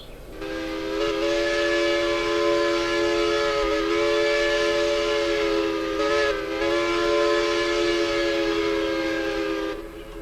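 A long, loud steam locomotive whistle from a video game blows as a sustained chord for about ten seconds, dipping briefly twice before cutting off.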